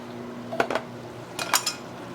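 Two quick bursts of metal utensil scraping and clinking in a skillet as spices are stirred into cabbage, sharp and close, with no talk.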